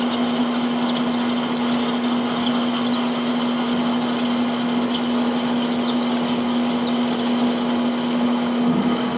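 A metal lathe boring a back plate hub gives off a steady, continuous tonal hum with grinding cutting noise layered over it, running unchanged and fairly close throughout.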